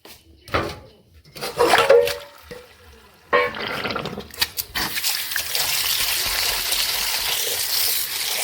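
Tangra fish are washed in water, with a few splashy handling bursts early on, then a steady running trickle that continues to the end.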